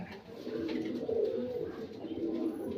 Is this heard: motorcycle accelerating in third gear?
no